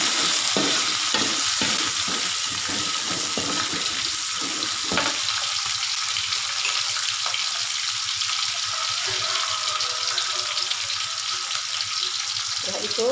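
Petai stir-fried with papaya vegetables in a pan, a loud continuous sizzle with quick stirring clatter early on, steady throughout.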